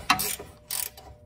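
A 19mm ratcheting wrench works a bolt on a 2013 Honda Fit during a CV shaft replacement, two quick clicking bursts close up, short and crisp, with no talk.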